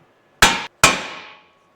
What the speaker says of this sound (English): give it a bit of a tap on the end there with a hammer